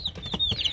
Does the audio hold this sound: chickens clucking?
yes